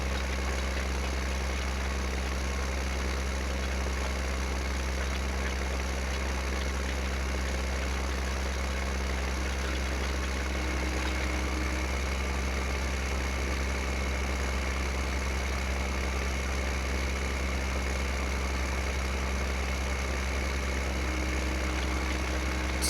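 A tractor engine idles in Farming Simulator 15, a steady low drone with a constant hum that holds unchanged for the whole stretch, with no talk over it.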